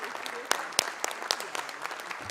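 A crowd at a formal solemn session of the São Paulo legislature honoring the Public Prosecutor's Office applauds an honoree: moderate, somewhat distant clapping with a few sharp claps standing out, briefly and without talk.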